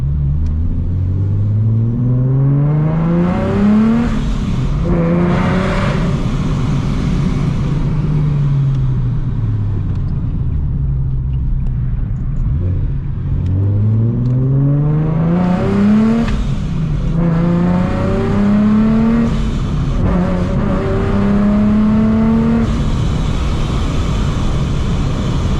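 A supercharged Nissan 370Z engine revs hard and loud through repeated climbing acceleration pulls, each rising in pitch before easing off, with a dip between the two main runs and no talk.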